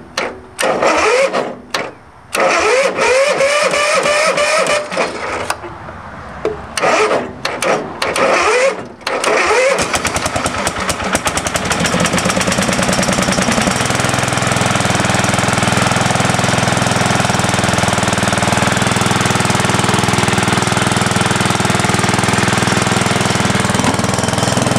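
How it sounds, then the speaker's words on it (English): A 1973 Bolens 1556 garden tractor engine cranks in loud, choppy bursts for several seconds, stalls briefly between tries, then catches and settles into a steady, loud running drone that continues to the end. "let's see if I can get this thing cranked over again"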